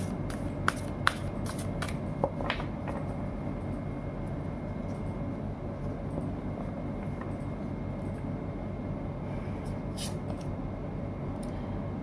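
Tarot cards being shuffled by hand, a few crisp riffling bursts early on, then a soft continuous rustle over a steady low background hum, with no talking.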